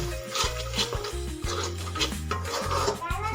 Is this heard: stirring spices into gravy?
yes